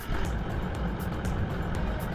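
A car passes at a roadside lookout on a Cape York outback drive, a steady moderate road rumble with faint wind and no talk.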